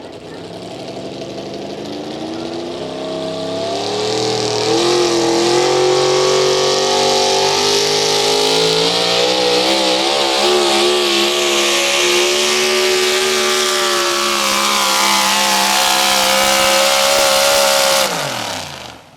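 A Chevrolet pulling truck's engine roars at full throttle at a truck and tractor pull, a loud, sustained rev that climbs in pitch and holds for many seconds before cutting off abruptly.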